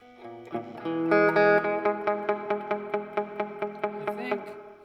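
Electric guitar through a Bugera V5 amp with reverb: a chord rings out, then a steady run of evenly spaced picked notes, each trailing a reverberant tail, close and clear.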